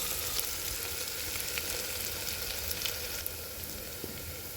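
Cumin seeds and crushed ginger-garlic paste frying in hot oil: a dense, even crackling sizzle fills the short stretch, close and steady, with no talk.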